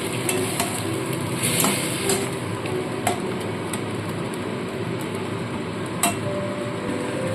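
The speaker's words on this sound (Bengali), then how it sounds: "সামান্য পরিমাণে জল দিয়ে দিয়ে আমি মশলাটা কষাবো যাতে নিচে না লেগে যায়" Spice paste frying in a pan with a little water added to keep it from sticking, giving a continuous dense sizzle with occasional sharp clinks and scrapes of a spoon against metal.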